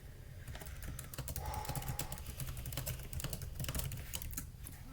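Steady keyboard typing while someone enters text into the Penzu online journal, a dense run of quick clacking keystrokes, close and fairly loud, with no talking.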